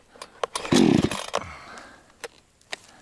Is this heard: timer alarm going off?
no